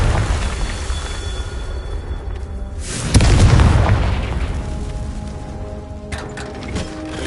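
A Confringo fire spell explosion in the Hogwarts Legacy video game, a single deep loud boom mid-clip over a continuous rumbling game soundscape that slowly fades afterward.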